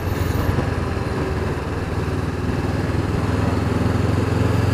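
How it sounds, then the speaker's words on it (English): A 2019 Honda CB500F motorcycle engine lugging at low revs in third gear, a steady, loud, continuous chugging drone close by with no talk over it. "Chugged a little bit in third gear then."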